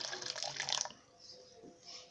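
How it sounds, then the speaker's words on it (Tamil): Water poured into a glass for a Tamil-style lemon drink, a bright splashing pour for just under a second, then quiet room tone with faint trickles. "இப்போ நம்ம அதில் வந்து ஒரு 1/4 டம்ளர் அளவுக்கு தண்ணி ஊற்றிக்கலாம்."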